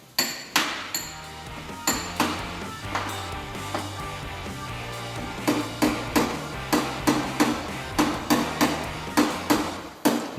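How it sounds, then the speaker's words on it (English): Sharp metallic hammer taps strike in quick, steady runs against a car door panel on a dolly, close up and ringing, with brief pauses between bursts. "Hammer on dolly technique."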